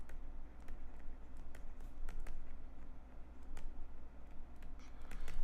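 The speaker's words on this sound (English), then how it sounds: "I just typed wrongly just now" Computer keyboard typing in short irregular bursts of light clicks and taps, fairly faint and close, over a steady low hum.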